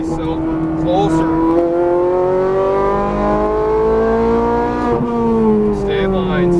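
A Ferrari 430 Scuderia's engine pulls hard on a race track, a loud close in-car roar that climbs steadily in pitch, dips briefly at a gear change and climbs again.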